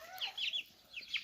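Small chicks peep in a cage in a string of thin, high calls, four or five short bursts spaced irregularly, fairly close but soft.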